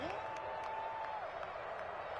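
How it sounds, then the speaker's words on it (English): Football stadium crowd roaring ahead of a big third down, a broad, steady wash of cheering and applause heard from a distance, with a whistle-like tone rising briefly at the start. "the crowd getting into it as we come up on a big 3rd down"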